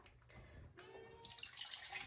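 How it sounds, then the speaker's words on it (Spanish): Water pours steadily from a container into a pot of vegan pumpkin soup, a soft close splashing that grows brighter and fuller midway as the stream strikes the liquid, with no talking. "Tengo que agregarle 2 tazas de agua extras"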